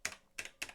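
Keys on a BBC computer keyboard are struck in three evenly spaced, crisp clacks, close and moderately loud, with a quiet pause between each press and no talking.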